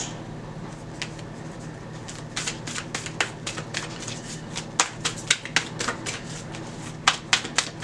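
A Moonology oracle deck is shuffled by hand close to the mic, giving rapid crisp riffles and flicks in uneven bursts over a low steady room hum.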